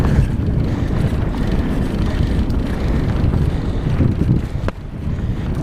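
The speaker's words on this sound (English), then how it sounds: "A little bit of wind hitting the face." Steady, loud wind buffeting the microphone while mountain biking on single track at Hailes Trails in Gainesville, a dense rumbling roar throughout with a brief sharp knock near the end and no talking.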